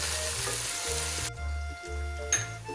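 Onions frying golden in ghee in a pan, a steady close sizzle with faint stirring scrapes throughout and no voices.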